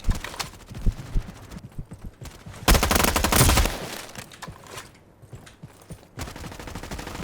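Bursts of gunfire in Roblox, scattered sharp shots early, then a dense rapid volley around the middle, fading into quieter game noise with no talk.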